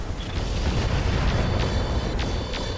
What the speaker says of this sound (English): AC-10 explosion bailout.